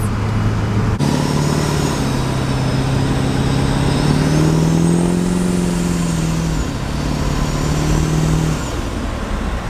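Built Duramax diesel pickup truck accelerating hard on a road, a loud steady engine drone rising in pitch through the gears with a turbo whine on top, heard from inside the cab with no talking.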